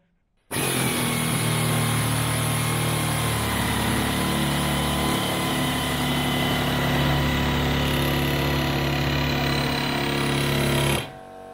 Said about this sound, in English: What this tool does, with the air tool, it cuts out little half moon shapes of metal and pings them everywhere.